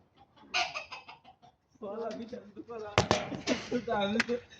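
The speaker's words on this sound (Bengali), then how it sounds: "দেশি মুরগি" A native (deshi) domestic chicken clucks in bursts close by, with sharp clattering knocks and people talking around it at a party.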